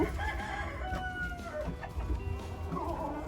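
Hens clucking in a coop at a dacha with a brooding hen present, a rooster crowing nearby, the calls overlapping close by in a busy, continuous farmyard chorus.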